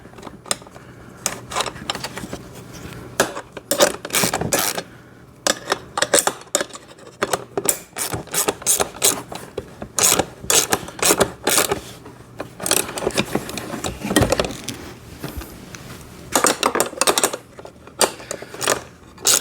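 A ratchet snugs a 12 or 13 millimeter nut on a battery-powered kids' ride-on motorcycle, giving rapid, close clicking in repeated bursts with brief pauses and light metallic handling noises between.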